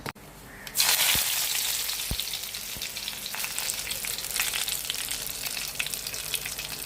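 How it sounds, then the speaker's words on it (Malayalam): Mustard seeds hit hot coconut oil in a pan and burst into a loud, steady crackle and sizzle. Scattered sharp pops sound close by and continue without a break, with no talking. "ചട്ടി ചൂടായി വന്നപ്പം ഒരു സ്പൂൺ കടുക് ഇടുകയാണേ."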